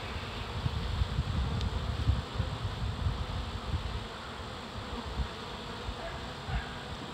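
Dense swarm of honeybees humming steadily and close during a swarm removal, a low continuous buzz with slight swells in loudness and no talking.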